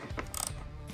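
A hand ratchet snugs up the hex bolts of a tail tidy fender eliminator on a Triumph Scrambler 400 X, making a brief run of close, quiet clicks.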